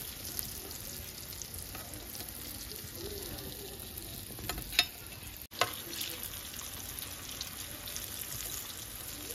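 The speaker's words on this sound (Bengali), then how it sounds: "এইভাবে আমি সবগুলো ভেজে তুলে নেব।" Raw banana and chana dal fritters fry in hot oil, giving a continuous soft sizzle and crackle, with a couple of brief clinks and scrapes from a utensil midway; no voices.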